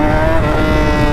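A 2018 Yamaha R6 sport motorcycle engine holds a loud, steady high-revving drone as the clutch is popped, close and continuous with no voices.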